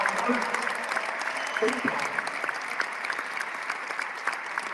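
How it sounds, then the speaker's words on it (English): A crowd at an inaugural after-party at Capital One Arena claps for the performers, a steady wash of applause with sharp individual claps and faint cheering voices mixed in. "let's give a big round of applause"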